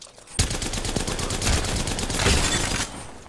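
Rapid automatic gunfire in Apex Legends, a loud sustained burst of evenly spaced shots lasting a few seconds before cutting off.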